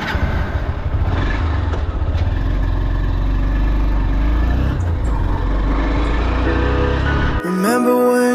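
A Honda Hornet 2.0 motorcycle rides through city traffic at a steady 50–55 km/h, its engine humming loud and continuous until a sudden cut to music near the end.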